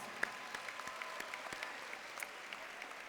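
A graduation audience at a Merritt College commencement claps at a moderate distance in a fairly quiet, scattered round of applause with individual claps standing out.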